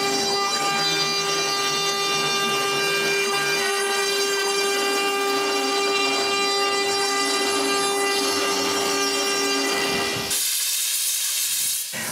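A loud, steady high-pitched whine of a power tool bit cutting a wood profile runs continuously, then the tone shifts abruptly near the end as the cut finishes.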